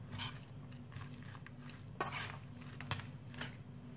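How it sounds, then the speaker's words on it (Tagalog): A Lebanese spinach mixture is stirred in a pot or bowl, with soft scraping and a few sharper utensil knocks against the dish, close and fairly quiet. "Haluin ng mabuti."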